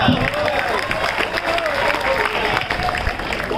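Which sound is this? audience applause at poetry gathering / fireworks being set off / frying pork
audience applause at poetry gathering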